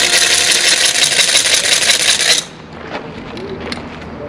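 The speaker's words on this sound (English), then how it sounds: "I'm gonna warn my friend on the other side of the wall that I'm about to fire with this little rattle here." A hand warning rattle sounded before a musket firing at a colonial historic site: a loud, dense clattering whir runs continuously for about two and a half seconds, then cuts off abruptly, leaving only faint background noise.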